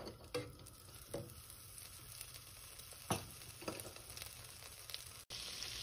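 Butter and oil melting in a pan for white sauce give a faint, quiet sizzle broken by a few soft scrapes and taps, with a louder hiss near the end.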